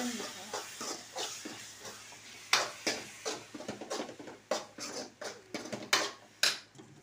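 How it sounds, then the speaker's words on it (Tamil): Mutton masala is stirred and sautéed in a pan, with a dozen or so close, irregular scraping strokes of a spatula rising over a quiet background sizzle. "இப்போ நம்ம போட்டது வந்து மட்டன் மசாலா ஃப்ரெண்ட்ஸ். ஒரு வதக்கி விட்டுக்கலாம்"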